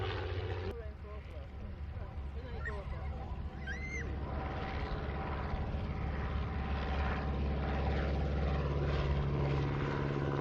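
Propeller aircraft at the Old Warden air race day drone steadily overhead, the engine note building louder toward the end, with people talking underneath.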